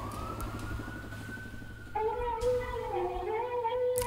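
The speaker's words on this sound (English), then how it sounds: "It already touches on the title of the song with the siren." A wailing siren tone sweeps and warbles over a steady low rumble, turning louder and more wavering partway through.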